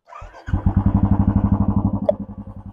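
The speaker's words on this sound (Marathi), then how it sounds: "सो चला आता बाईक वगैरे स्टार्ट करू." A Royal Enfield Bullet motorcycle engine cranks and catches after a short pause, then settles into a steady, loud, rapid thumping idle close by, with a faint click near the end.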